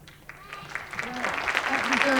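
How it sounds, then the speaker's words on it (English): Applause rises steadily at an elementary honor choir event in Wayne County, West Virginia, with scattered clapping building louder over about two seconds while voices talk over it. "some applause."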